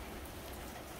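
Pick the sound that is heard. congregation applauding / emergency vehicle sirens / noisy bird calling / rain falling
rain falling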